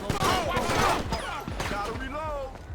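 Rapid bursts of GTA V gunfire crackle in quick volleys, loud and close, mixed with overlapping game voices and shouting.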